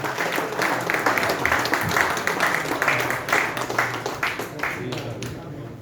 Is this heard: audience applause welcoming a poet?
yes